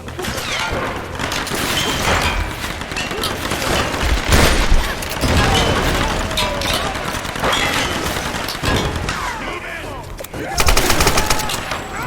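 Gunfire from the video game Rise of the Tomb Raider, dense bursts of shots and crashes running throughout at loud level, with a voice talking over the action.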